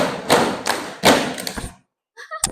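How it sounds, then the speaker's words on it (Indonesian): Several loud group claps in uneven bursts, each a sharp slap with a short ringing tail, followed by a pause and a few softer claps. "Tepuk 1 sampai 10 ya."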